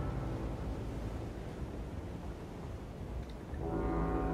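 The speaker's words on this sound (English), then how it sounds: "I love that music, like the ominous music made out of foghorns, essentially." Low, ominous foghorn-like drones sustain a dark musical bed in the video game Little Nightmares, swelling slightly louder near the end with no voices present.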